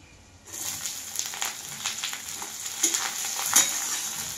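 Chopped onions and green chillies hit hot oil with bay leaves already fried in it, and a loud, bright sizzle bursts in after a short quiet start. The sizzle keeps going steadily, with small crackles and stirring scrapes.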